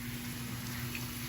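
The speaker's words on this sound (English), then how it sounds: "let the water hit and soak into her locks" Tap water running steadily onto a woman's hair with starter locs during washing, a constant close hiss and splash with a low hum underneath.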